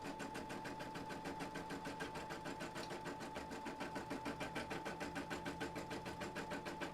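An embroidery machine stitches a design over a circle with a fast, steady mechanical chatter and a constant hum, quiet and alone with no talking.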